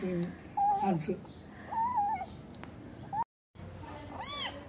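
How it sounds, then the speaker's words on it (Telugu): A mother cat gives several clear, rising meows close by, separated by short pauses, with quiet household background noise and a brief cut near the end. "వచ్చింది తల్లి పిల్లి వచ్చింది."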